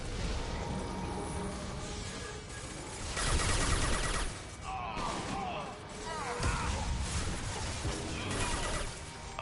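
Gunfire in the Mass Effect 2 video game combat, bursts of shots and crashing impacts, loud and dense with short lulls between volleys, mixed with game sound effects.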